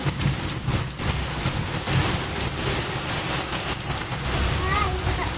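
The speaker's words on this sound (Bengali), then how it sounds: "ওই যে মেঘে ডাকছে, দেখো এত জল হয়ে গেছে রাস্তায়" Steady heavy rain pours down on a waterlogged, flooded street, a dense close hiss with low rumbling thunder underneath and a voice speaking over it.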